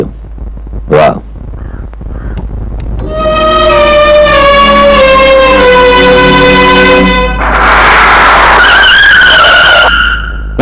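Car tires squeal in a long, loud, high skid during a film scene, with the pitch sliding down and then a rougher scraping burst before it fades, preceded by a brief thump.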